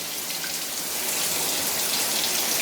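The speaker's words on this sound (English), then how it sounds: "we have a nice little rainstorm going there" Water spraying from a rainfall showerhead, a dense steady hiss of falling water that grows slightly louder, close and continuous with no talking.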